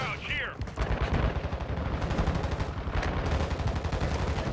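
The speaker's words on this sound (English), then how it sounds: "it's a lot of shooting over there" Dense, loud video game gunfire with rapid automatic bursts and overlapping shots rattling almost continuously for several seconds, with no voices over it.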